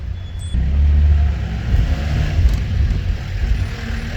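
A Mercedes 190 car driving on freshly replaced shock absorbers, a low steady engine and road rumble from inside the cabin, with a brief rise near the start and soft bumps throughout.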